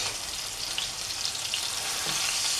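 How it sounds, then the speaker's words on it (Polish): Pork ribs fry in a pan with a steady, close, even sizzle that crackles without pause and has no talk over it. "Jeszcze jedną partię muszę obsmażyć."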